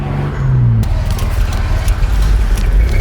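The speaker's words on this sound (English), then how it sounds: "It's making the worst sounds I've ever heard a car make before." A Toyota MR2 engine with a rod knock cranks and restarts up close, a loud rough drone with a low irregular rumble that steadies into a continuous strained running note.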